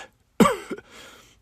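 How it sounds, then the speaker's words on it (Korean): A man coughs once, a sudden harsh burst followed by a short rasping tail and a breathy exhale, close and fairly loud, with no talking. "기침 소리가 많이 안 좋은데요."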